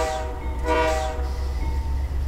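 A CP AC4400 diesel locomotive in Train Simulator 2020 begins to move, giving a steady low engine rumble with a brief tonal horn-like burst near the middle, no voices.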